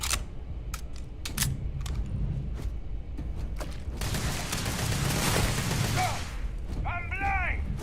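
Gunfire in Starfield, a run of sharp separate shots followed by a dense burst of rapid fire, with some mechanical clicks and chirping electronic tones near the end.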